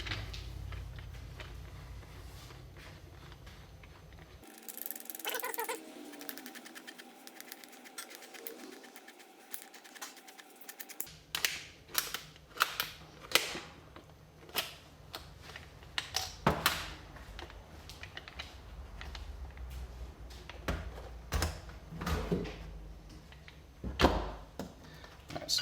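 A filter cutter tool slices open a Wix racing oil filter canister, a series of close, sharp metallic clicks and ratcheting crunches, irregular and intermittent, with a brief quieter stretch early on.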